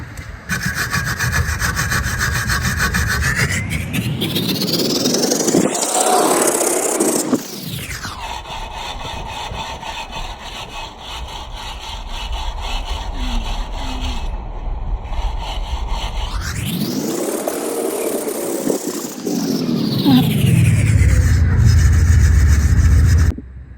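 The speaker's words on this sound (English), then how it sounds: "So we're going to scrub it with a wire brush." Wire brush scrubbing the rear brake parts of a 2004 Mini during a disc and pad job, a steady, loud abrasive rasping that runs almost continuously, rising and sweeping in pitch with longer strokes, with no talking.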